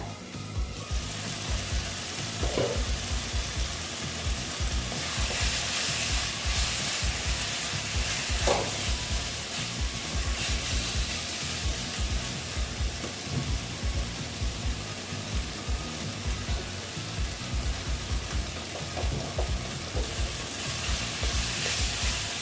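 Fish roe curry with potatoes sautéing in a covered pan, a steady close sizzle and crackle with faint scraping stirs throughout, no talk.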